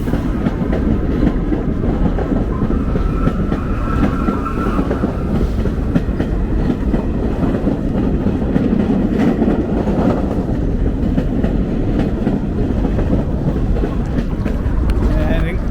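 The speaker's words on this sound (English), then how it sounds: "You see the N train is going underneath us" A New York subway N train rumbles steadily below with a continuous low roar and faint rhythmic rail clatter, loud and close throughout.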